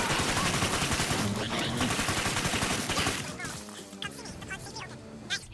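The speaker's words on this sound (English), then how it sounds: "I took out my 9mm pistol and slowly whittled them down" 9mm pistol gunfire in the video game Killing Floor 2, dense rapid shots in a continuous volley that thins out toward the end, loud and close, with game sounds mixed in.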